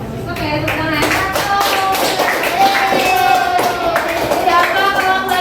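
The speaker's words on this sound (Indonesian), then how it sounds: "oke, tepuk tangan." Schoolchildren in a classroom clapping hands together on cue, lively overlapping claps mixed with children's voices and chatter, fairly close and loud.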